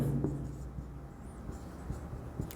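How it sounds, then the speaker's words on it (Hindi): Chalk or marker writing on a board during an electrostatics physics lecture, faint scratchy strokes in short bursts against quiet room noise. "यहां एक स्टार पॉइंट बना के लिख देता हूं"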